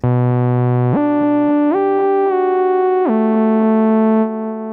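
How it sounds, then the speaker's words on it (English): A bright synthesizer plays a slow sequence of held notes that step up and then down, with ping-pong delay echoes bouncing left to right behind each one. "Delay, and this is a ping pong delay, so it goes left to right."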